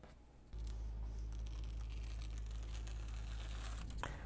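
Fabric is pulled tight around foam and taped down in a DIY wand box build, giving close, soft crinkling and rustling handling noises over a steady low hum, with a sharper tearing tape sound near the end.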